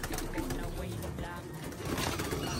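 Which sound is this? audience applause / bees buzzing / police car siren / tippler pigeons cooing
tippler pigeons cooing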